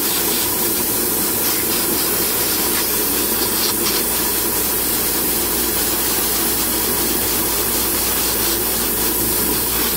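Aerosol spray can laying down a primer base coat on a plastic Gundam HG Kampfer model kit, a steady broadband hiss running for the whole stretch without pauses or talk.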